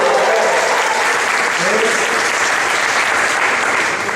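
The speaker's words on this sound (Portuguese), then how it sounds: "Vamos aplaudir o Senhor" A church camp congregation applauds in praise, a thick, sustained wash of clapping that stays loud and unbroken throughout, with some murmured voices mixed in.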